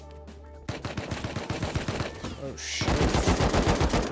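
Rapid bursts of gunfire in the survival game Rust, a steady run of close, loud shots that grows heavier and denser toward the end, with a brief exclamation from a player.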